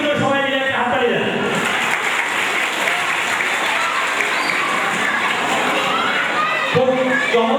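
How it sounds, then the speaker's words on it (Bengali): Sustained audience applause for students at a school event, dense and steady throughout, with children's voices and crowd noise mixed in and brief speech at the start and end. "তাই আগে তাদের জন্য সবাই মিলে একটা হাততালি দেন"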